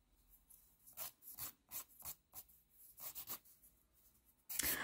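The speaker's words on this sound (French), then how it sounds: "en relimant légèrement" A nail file rasps lightly across a fingernail during nail technician work, short repeated strokes in an irregular rhythm, close and fairly quiet, ending with a brief louder scrape.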